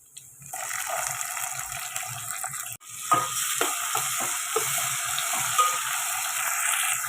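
Tomatoes drop into a hot pan of oil beside surmai fish pieces and sizzle loudly, a bright steady hiss broken by a sharp clatter midway, followed by scraping stirs and renewed frying.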